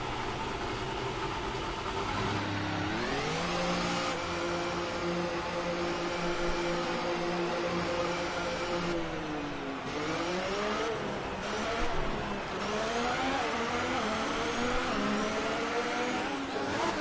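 Formula 1 cars race in the video game F1 2018, driven from a Sauber Alfa Romeo on a damp track with a Renault nearby. A loud, continuous high engine whine climbs and drops with each gear change and never lets up.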